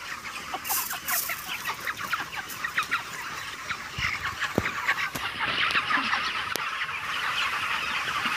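A flock of 28-day-old broiler chickens clucks and chirps in a crowded, continuous chatter, with occasional sharper calls standing out over a noisy barn background.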